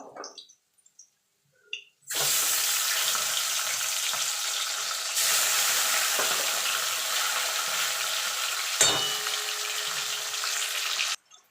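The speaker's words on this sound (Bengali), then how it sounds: "এইভাবে আমি বাকি মাছগুলো ভেজে নেব।" Pieces of fish fry in hot oil, a steady loud sizzling hiss that starts abruptly after a quiet moment, surges briefly midway with a sharp crackle, and runs on evenly until it cuts off near the end.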